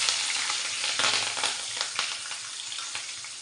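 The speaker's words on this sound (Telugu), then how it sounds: "ఫ్రై చేసుకున్నాం." Green chillies sizzling in hot oil alongside whole spices and a bay leaf while a parotta dish is cooked, a steady crackling fry with occasional stirring scrapes, close and alone.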